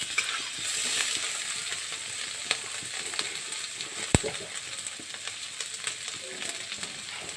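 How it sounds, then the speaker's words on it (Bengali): Green chillies fry in hot oil, a continuous crackling sizzle close by, punctuated by occasional light clicks of a spatula and one sharp knock partway through. "তিনটে কাঁচা লঙ্কা। এগুলোকে আমি ভালো করে ভেজে নেব।"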